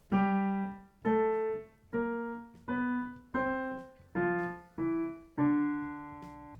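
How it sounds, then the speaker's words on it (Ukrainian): Eight clear musical tones played one after another, each a pure, open-sounding pair of notes an octave apart, evenly spaced and sustained. "Звучить вона максимально прозоро."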